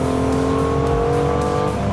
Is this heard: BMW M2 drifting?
yes